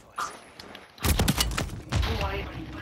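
A burst of gunfire and a grenade blast in the shooter game Warzone 3: quiet start with a short pop, then a loud, dense crackle of shots from about one second on, with a voice speaking over parts of it.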